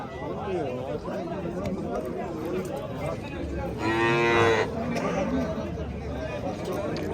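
A bovine lets out a long, loud moo partway through, rising above a steady din of people chattering and calling out at the busy Kitob livestock market in Uzbekistan.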